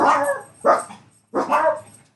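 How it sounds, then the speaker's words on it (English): A dog barks three times nearby, sharp and loud, with short gaps between the barks and the last one slightly drawn out. "Sorry, it started barking."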